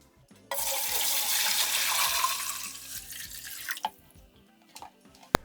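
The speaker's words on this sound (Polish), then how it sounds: "Zaczynamy od wlania do garnka wody w ilości 10 litrów." Water pours steadily into a pot for home-brewed beer, a broad rushing splash lasting about three seconds before tapering off, followed by a few faint clinks and drips, with no talking.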